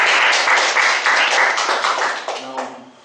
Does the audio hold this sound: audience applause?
yes